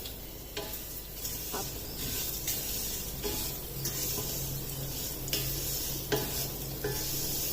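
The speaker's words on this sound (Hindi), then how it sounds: "अब इन सवैयों को इसमें थोड़ा सा लाइट ब्राउन होने तक इसी तरह घी में फ्राई होने देना है" Handmade vermicelli frying in melted ghee in a pan, a steady close sizzle with occasional stirring scrapes and clinks, no talking.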